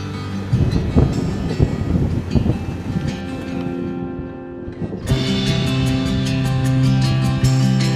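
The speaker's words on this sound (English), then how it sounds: "The sound of the cold wind" Cold wind blowing through the Fagu valleys near Shimla, a loud rushing gust with rumbling buffeting against the microphone, easing briefly before returning steady and strong.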